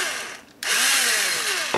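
A power drill reams out holes in a plastic palm part for an Osprey/Gamma Raptor, starting after a short lull and then whining loud and steady at close range, with no voices.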